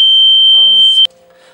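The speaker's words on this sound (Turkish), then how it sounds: "O daha demin duyduğunuz ses yangın alarmının sesiydi." A smoke alarm gives a loud, piercing high-pitched beep that holds steadily and then cuts off abruptly, with someone speaking briefly underneath.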